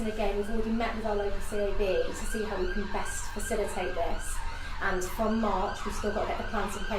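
Emergency vehicle sirens wail continuously outside while someone speaks over them indoors, the rising and falling tones steady and fairly prominent beneath his voice throughout.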